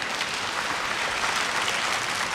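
Congregation applauding during a worship service, a brief continuous burst of many hands clapping, close and fairly loud, with no clear speech.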